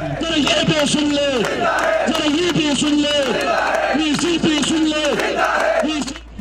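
Students protesting outside a university administration block chant slogans in a loud, rhythmic call-and-response, the crowd's voices rising and falling in repeated bursts throughout.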